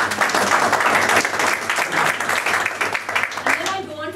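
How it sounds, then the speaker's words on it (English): Welcoming audience applause at a talk in Chennai, India: a full room clapping steadily and loudly, tapering slightly toward the end as a voice begins speaking over the fading claps. "I'd like to welcome you by giving you a huge round of applause."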